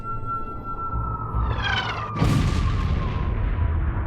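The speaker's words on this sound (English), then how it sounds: "Shots are fired to illustrate his power." Cannon shot from Commodore Perry's warship, fired as a warning to the Japanese shogun: a single heavy boom bursts out midway with a broad rolling rumble that lingers, following a rising whistling tone against steady background noise.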